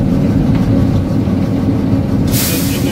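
Continuous loud, heavy low-end engine rumble from a miniature railway locomotive with a big V-twin engine, steady throughout, with a burst of hissing noise near the end.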